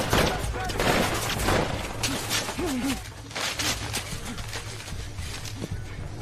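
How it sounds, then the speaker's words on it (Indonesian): Gunfire exchange in an action film about African rebels fighting over a gold mine, heard as a dense run of sharp cracks and bursts through most of the stretch under a steady low drone, with narration-like talk mixed in. "kontan terjadi baku tembak"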